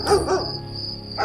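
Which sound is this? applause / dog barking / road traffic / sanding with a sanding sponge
dog barking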